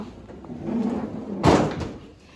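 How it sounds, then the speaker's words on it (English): A fridge door swings open with a thump and rattle midway, preceded by low room murmur; single close-up action on a household refrigerator with water dispenser and ice maker. "When you open up your doors here to your fridge"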